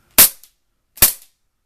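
Two sharp, loud shots from a CZ P-09 blowback airsoft BB pistol, each a crisp snapping crack with a short metallic slide rattle, spaced about a second apart with silence between.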